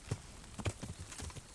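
A horse in Kingdom Come: Deliverance clops along in the game, a few soft irregular hoof beats fairly close, quiet and uneven with no talk.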